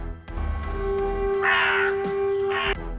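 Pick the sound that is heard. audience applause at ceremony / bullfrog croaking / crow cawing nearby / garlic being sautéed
crow cawing nearby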